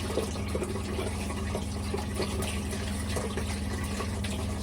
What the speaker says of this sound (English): Rinse out the hands, chat.